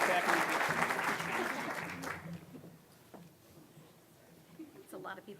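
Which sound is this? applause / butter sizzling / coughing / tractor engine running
applause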